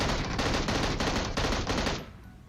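Rapid automatic gunfire in the battle royale game PUBG Mobile, a loud, close, continuous burst of evenly spaced shots that cuts off after about two seconds, leaving faint background noise.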